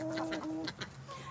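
An old retired Golden hen clucks softly in a short run of quick, throaty notes, close by on a backyard farm.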